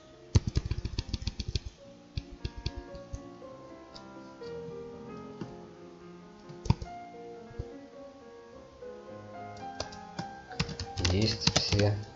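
Keystrokes on a computer keyboard clatter in quick irregular bursts, close and clear, with someone speaking over them while entering ad text into advertising software.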